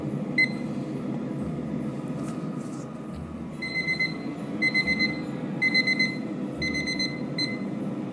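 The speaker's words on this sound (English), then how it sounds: "I'm going to start my 4-minute timer again, and once that goes off" An air fryer timer alarm beeps in repeated bursts of short, high electronic tones while chicken quesadillas cook, rising over a steady low hum of background noise.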